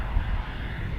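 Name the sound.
aircraft engine, airplane turning to line up with runway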